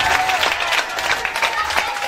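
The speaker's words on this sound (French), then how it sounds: "on continue d'applaudir ce peuple." Applause from a crowd at a gathering welcoming a visiting delegation, steady clapping with scattered voices underneath, fairly close and continuous.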